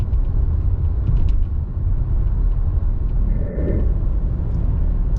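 Interior road noise from a 2024 Kia Sportage LX AWD cruising down the road, a steady low rumble of tires and engine, fairly loud and continuous, with a brief faint whine near the middle.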